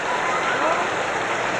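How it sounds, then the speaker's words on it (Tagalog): Heavy rain pouring down outdoors, a dense continuous roar of drops on surfaces, loud and steady throughout. "Ulan, lakas ng ulan."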